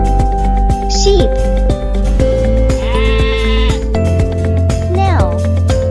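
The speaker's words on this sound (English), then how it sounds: "Sheep." Cartoon sheep bleat on a farm in a children's animal-name lesson, with bright background music playing throughout and a narrator's voice alongside.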